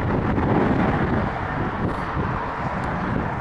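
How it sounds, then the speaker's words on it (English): A strong autumn gust of wind buffets the microphone during a bike ride around town, a loud, steady rumbling roar that fills the whole moment with no talking. "Gust of wind."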